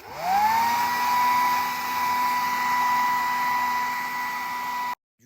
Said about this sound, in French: Là, pareil qu'avec la pigmentation, on va venir tirer le produit en fait en le séchant avec le sèche-cheveux